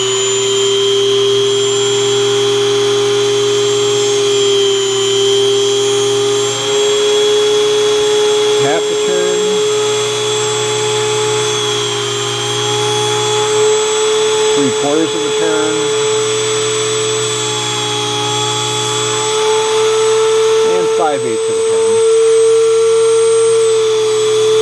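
A saw cuts through a fish maxilla with the dust collector switched off. It gives a steady, loud mechanical whine that holds throughout, with brief grinding bursts as the blade bites in, heard up close.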